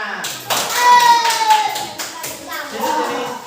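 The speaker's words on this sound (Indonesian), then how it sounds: "Tepuk tangan." Children clap their hands together in an elementary school classroom, a short burst of quick claps with a teacher's voice and kids' chatter mixed in.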